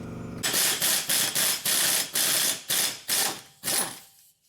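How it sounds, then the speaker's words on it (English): A ratchet wrench fitted with a 32mm socket working an axle nut loose on a Chevy Impala during front wheel bearing replacement, a loud, close series of about nine rapid clicking bursts in steady rhythm before stopping. "I'm gonna get a 32mm socket so we can get this axle nut out."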